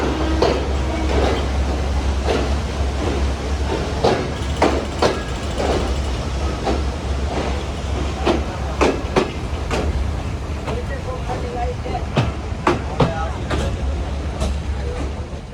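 A passenger train from Khulna to Kolkata runs steadily with a low rumbling drone and a string of irregular clacks and knocks from the carriage, with talk faintly in the background.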